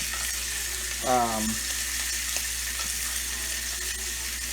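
A pastured steak sizzles steadily in a pan while being basted, a constant close hiss with a brief louder flare-up and faint clicks of utensils.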